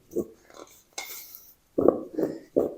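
Fried potato snack pieces are stirred in a pan, giving a few short scraping clinks of utensil on metal in separate bursts, close and fairly quiet.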